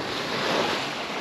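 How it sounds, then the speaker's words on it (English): Heavy ocean waves of around 15 feet surge and crash against a sailboat far offshore on a passage from Bermuda to St Martin, a steady loud wash of surf and spray with wind buffeting throughout and no voices. "15-foot waves"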